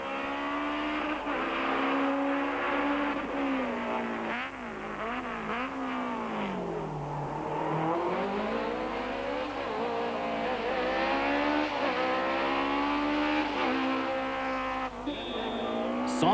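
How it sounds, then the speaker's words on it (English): A Toyota rally car on a 1.3-kilometre parking-lot stage accelerates hard through repeated gear changes, its engine note climbing, dipping and climbing again, loud and close for about sixteen seconds, with occasional tyre noise and no talking. "Serge soon has the Toyota quickly up to speed"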